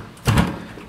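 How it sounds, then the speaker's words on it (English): A heavy door swings with a dull thump and a short scraping rumble, followed by a second quick knock near the end, close by and without talk. "The door's kinda heavy."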